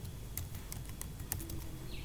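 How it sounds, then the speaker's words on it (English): Someone types on a computer keyboard, and a quick, uneven run of crisp key clicks is faint against a quiet room hum. Nobody speaks. "I use Google Chrome, so I'm going to come here and type RStudio"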